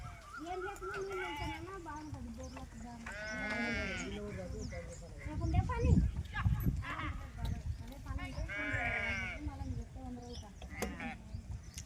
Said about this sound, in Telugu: ఇలా ప్రతిరోజు గొర్రెలు వస్తుంటాయి ఇక్కడికి